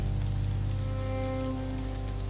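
Steady rain falling in a forest, a constant soft hiss of drops with a low hum underneath.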